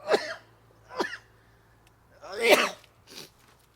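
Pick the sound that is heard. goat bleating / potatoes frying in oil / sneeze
sneeze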